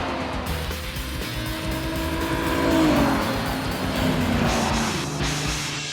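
A race car roars past at speed, its engine pitch climbing and sweeping down over steady track noise, loud and continuous.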